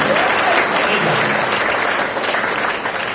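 A seminar crowd claps loudly and continuously, dense sustained applause that tapers slightly toward the end.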